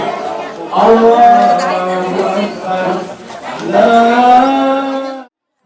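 Cattle gathered for the Eid al-Adha sacrifice at Langgar Demak in Banjarmasin: two long, loud, close moos, each held for over a second, over a murmur of crowd chatter.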